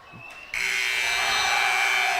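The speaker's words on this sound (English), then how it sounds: "And the second half buzzer sounds." A sudden loud electronic buzzer blares and holds steadily after a brief quieter moment, sustained to the end, marking the end of the second half at a high school varsity basketball game.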